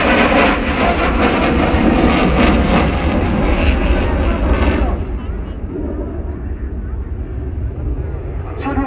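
A MiG-29 fighter jet with two RD-33 engines makes an afterburner turn at an Independence Day aircraft parade, a loud roaring rumble that fades slightly after a few seconds, with an announcer's voice over it.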